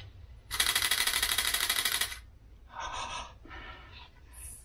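A Canon R7 camera firing a rapid burst of shutter clicks, a dense buzzing run of about a second and a half, then two shorter bursts, close and loud.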